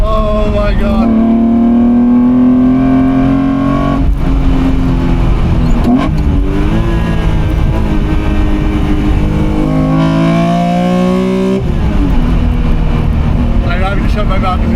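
BMW E28 sedan with a swapped S54 engine revving hard on track, loud rising engine pulls broken by quick gear changes, repeated several times, with an excited voice over parts of it.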